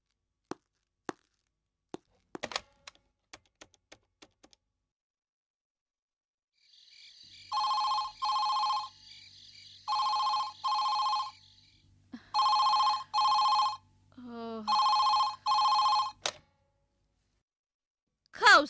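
Telephone ringing in a Tamil comedy teleplay, sounding in repeated paired electronic bursts with short gaps, loud and close after a few sharp clicks and knocks, with no talk over it.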